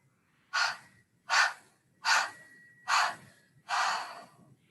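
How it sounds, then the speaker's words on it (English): Five separate out-breaths in a staggered rhythm, each a soft breathy rush pushed out in short bursts during a guided meditation while pulling on an imagined rope, close and clear against a quiet background. "breathe out in a staggered breath."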